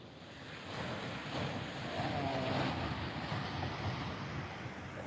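Ocean surf rolling onto the beach at Fingal Head, Australia, a steady broadband wash with gentle swells in strength, mixed with wind buffeting the microphone.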